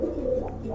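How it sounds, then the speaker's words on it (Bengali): A pair of large white racer pigeons coos steadily at close range, a low continuous murmur with no pauses and no one talking over it. "এখানে এক জোড়া হোয়াইট রেসার কবুতর আছে"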